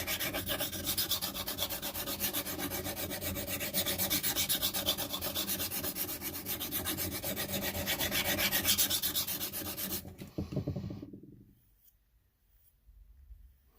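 Steady rapid scraping of a Spyderco knife's spine rubbed back and forth on the fine side of a sharpening stone, close and loud, running continuously for about ten seconds before stopping abruptly, leaving near silence with a faint rustle.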